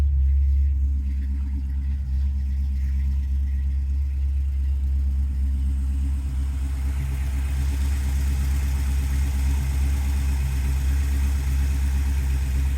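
A 1955 Chevy 210 gasser with a 350 V8 and M22 four-speed idles steadily up close, a deep continuous rumble with a loping low throb that holds through the whole stretch.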